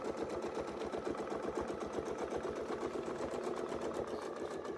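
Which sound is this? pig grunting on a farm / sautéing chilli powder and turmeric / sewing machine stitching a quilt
sewing machine stitching a quilt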